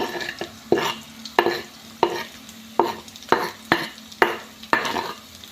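Curry leaves, green chili and ginger frying in a tadka for onion poha, stirred in regular strokes: rhythmic scrapes and clinks of a spoon against the pan, roughly one per second, over a crackling sizzle, close and loud.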